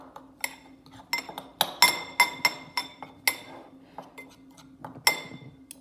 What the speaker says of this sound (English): Just break up that brown sugar.